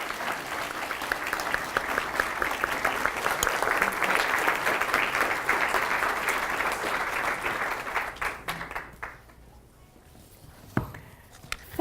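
A lecture audience on a campus welcomes a speaker with steady applause of many hands clapping. It holds for about eight seconds, then thins out and fades to a few scattered claps and shuffling.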